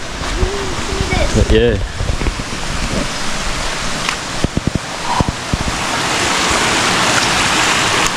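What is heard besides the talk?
rainwater runoff rushing down a cascade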